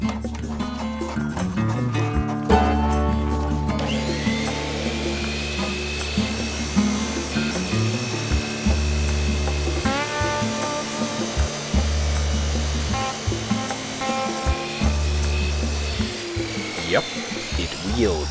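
Harbor Freight Bauer 14-inch abrasive chop saw cutting an old, rusty used steel horseshoe: a loud, continuous grinding whine with shifting pitch, steady throughout and close up, with no talk over it.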